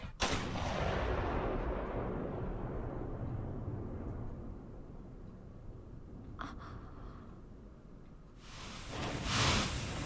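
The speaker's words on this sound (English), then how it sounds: "Now, Officer Ceres, take the shot" Gunfire in the Hellsing anime: a huge blast at the start with a long rumbling decay, a faint crack midway, and a second bright burst near the end.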